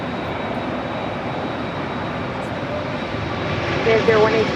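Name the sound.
Airbus A380 airliner at LAX airport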